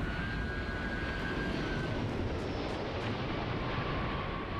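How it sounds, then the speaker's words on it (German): Spaceships flying nearby in the video game Starfield, a steady broad roaring engine rumble with faint tonal whines, continuous and fairly loud throughout with no talk. "Ich höre hier doch andere Schiffe, aber sehen tue ich keine."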